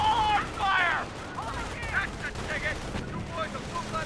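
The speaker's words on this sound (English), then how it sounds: "Well, the infantry half track is still firing away." Infantry half-track machine-gun fire in a Company of Heroes battle, a steady rattle of shots mixed with other battlefield noise, with a voice talking over parts of it.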